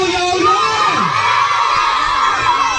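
A large group of children at a gift-giving party game shouts and cheers together loudly, a sustained noisy chorus of excited voices.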